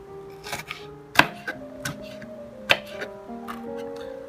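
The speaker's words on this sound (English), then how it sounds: "I cut them very thin. And then go the other way and chop them." A knife chops vegetables for tabouleh on a cutting board, with irregular sharp taps close by, a few louder strikes among softer ones, over faint background tones.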